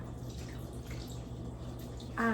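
A hot water mixture is poured on top of food in a home kitchen, a steady liquid trickle and splash running close by, rising slightly louder at the end with no speech.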